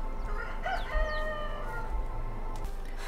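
Chickens cluck and a rooster crows faintly in the farm ambience of the video game Medieval Dynasty, with short bird calls over a low steady background hum.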